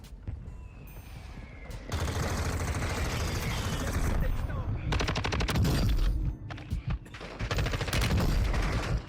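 Mortar strikes and explosions in Warzone 2.0 on Ashika Island, loud dense bursts and rapid gunfire in repeated volleys, with game voices over the top.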